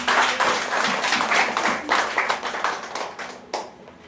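A church congregation claps hands together in a steady, dense burst of applause during worship, loud and continuous for a few seconds before fading out.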